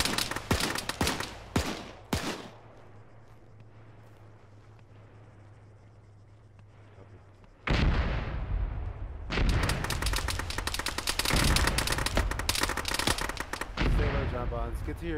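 Gunfire in the video game Arma: rapid bursts of rifle shots crack loudly at the start, then a quiet lull with a low hum, before heavy sustained volleys of shooting resume and continue to the end.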